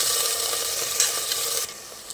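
Chopped potato and peanuts are stirred around a hot pan for a fasting-day dry potato dish, with a continuous scraping, rustling sizzle and a brief sharper scrape midway.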